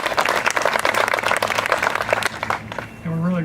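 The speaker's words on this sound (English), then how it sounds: "those three need a round of applause" Audience clapping at a ribbon cutting for a mansion's historic registry listing, a dense patter lasting a few seconds before fading as a voice begins speaking near the end.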